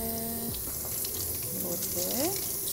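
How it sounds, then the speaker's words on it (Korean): Cold water runs from a kitchen tap over fresh salad vegetables being rinsed by hand, a steady close splashing with small clunks and rustles as the produce is turned, while a voice is briefly heard over it. "우선 야채는 흐르는 차가운 물에 씻어줄게요"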